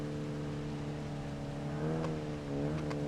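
A steady beach buggy engine drone in BeamNG Drive with a buzzy, harmonic tone that rises slightly in pitch as if accelerating, continuous and fairly loud with no talking.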